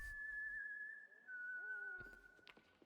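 A thin, melodic whistle from a Death Stranding trailer drifts through quiet background ambience, a few short wavering phrases that rise and fall, faint and alone, ending among some soft clicks and rustles.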